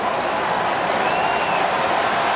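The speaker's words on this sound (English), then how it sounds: "The cheer is for Isaac Heaney, whose picture appeared on the big screen" A big stadium crowd at the 2024 AFL preliminary final between Sydney and Port Adelaide cheers and applauds in a dense, continuous roar, loud and steady throughout, with no distinct talk.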